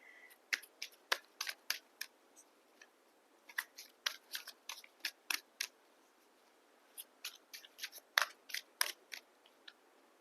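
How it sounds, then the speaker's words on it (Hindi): Tarot cards being shuffled and drawn, giving a run of crisp, dry snaps and flicks in quick irregular bursts, fairly quiet with short pauses and no voice. "थोड़े से कार्ड्स और निकालते हैं"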